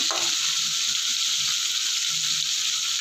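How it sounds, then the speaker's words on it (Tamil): Dried anchovies fry in hot oil with a dense, even sizzle that hisses steadily and close throughout. Faint low stirring bumps sit under the sizzle. "எண்ணெயிலே நல்லா கருவாடை நம்ம பொரித்து பாதி அளவு நல்லா பொரிஞ்சதுக்கப்புறம் வெங்காயம் போடணும்"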